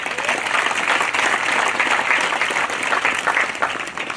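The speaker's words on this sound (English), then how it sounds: "Please give yourselves a big round of applause" Dense, loud applause from a large graduation audience at the U.S. Army Training Center in Fort Knox fills the space, a steady wash of many hands clapping without pause.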